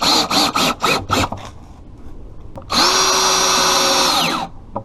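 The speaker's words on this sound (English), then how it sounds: "we'll just screw in about 3 screws across the top to support that brace in the middle" A power drill drives screws into a wooden brace on a DIY bench: a series of short bursty whirs at the start, a quiet pause, then one long, loud, steady drive that winds down at the end, close and without talk.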